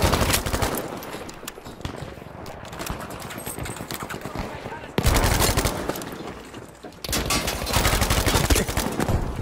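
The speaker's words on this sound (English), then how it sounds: "Tommy gun, it shoots fast like the Suomi, but it's like easier to control" A Tommy gun fires in Battlefield 5, rapid automatic bursts rattling loudly in two long stretches with a brief lull between, mixed with other battlefield gunfire and occasional voices.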